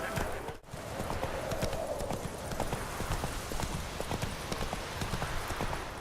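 Horse hooves clip-clop steadily at a quick galloping rhythm in the video game The Witcher 3, a continuous close patter with a brief dip near the start and faint game ambience beneath.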